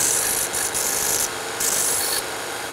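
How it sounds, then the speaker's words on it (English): A Burr King belt grinder grinds loose strands on the end of a throttle cable, giving a steady abrasive rasp that briefly lightens twice as the cable is lifted and pressed back, with no talking. "I'm gonna bring it over to my Burr King though real quick and clean it a little nicer."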